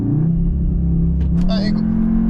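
A Cupra Formentor 310 engine holds a loud, steady, close rumble while prepared for a launch-control start on the Pas de la Case road in Andorra, its pitch rising slightly toward the end.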